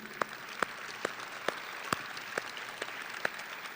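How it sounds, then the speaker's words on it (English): Sparse clapping at a high school graduation ceremony honoring graduates' supporters, a few distinct scattered claps over a quiet hall hum rather than full applause. "join me in giving a round of applause to these folks who are here"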